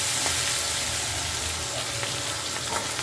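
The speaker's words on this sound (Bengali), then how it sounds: "এখানে যেমন পেঁয়াজ মশলা কষানোর জন্য বসাই দিচ্ছি" Onion and spices fry in a pan as a masala base for a shrimp dish, giving a steady, moderately loud sizzle with faint crackles throughout.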